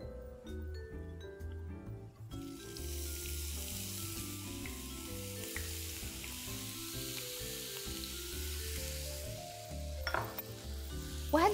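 Grated onion sizzles softly in a pan, a steady low frying hiss running under background music, with a few faint utensil clinks near the end.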